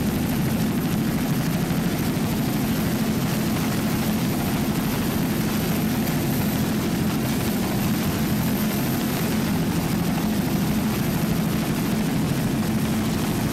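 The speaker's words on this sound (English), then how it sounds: "a 29-foot Warlock powered by one 500-horsepower Mercury inboard with a Mercruiser drive" A 29-foot Warlock racing powerboat with one 500-horsepower Mercury inboard and a Mercruiser drive gives a steady, dense engine roar that holds unbroken throughout, with no voices.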